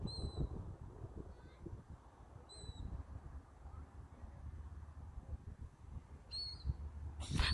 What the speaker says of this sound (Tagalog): Ang cute ng ibon, oh.